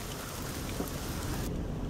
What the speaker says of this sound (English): A little rain, probably screen,